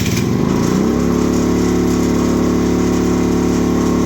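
A 50cc Icebear Maddog scooter engine fires up after a brief cranking start, then settles into a steady, loud, high-revving idle that holds constant with no talk over it.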